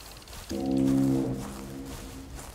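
A deep, sustained horn blares in the Prehistoric Hunt video game, a loud harmonic blast lasting under a second before easing into a softer lingering tone, with no talk over it.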